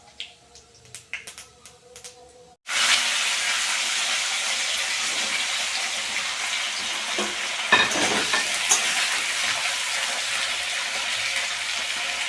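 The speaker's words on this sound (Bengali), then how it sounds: "এর মধ্যে আমরা কেটে রাখা আলু আর বেগুনটা তুলে দেব।" Potato and eggplant pieces tipped into a pan of hot oil with five-spice, bay leaf and dried red chillies, a sudden loud sizzle that holds steady, with a few stirring scrapes, after quiet crackling of the spices.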